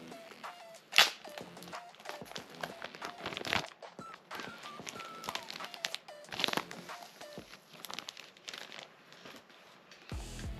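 Packing tape peeled and torn off a parcel of antiquarian books, with crinkling, tearing and crunching bursts in close, uneven rhythm and a sharp rip near the start.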